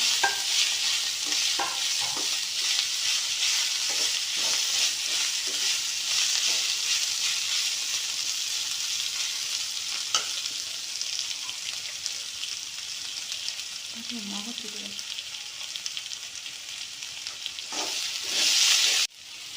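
Mint and coriander leaves are sautéed in hot oil for a chicken gravy, giving a loud continuous frying hiss. Occasional spatula scrapes and stirs sound through it for about twenty seconds, with no talking.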